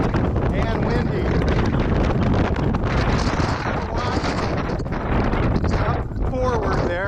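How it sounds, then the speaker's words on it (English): Strong, steady wind buffets the microphone outdoors on the deck of the cruise ship Norwegian Pearl, a constant loud rush with some gusting, and faint background activity underneath. "Now we're back in the wind and the sun."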